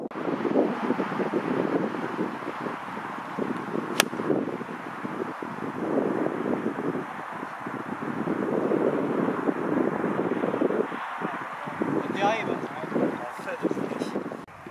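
Gusty wind on a golf course buffets the microphone in uneven waves throughout, with people talking quietly beneath it.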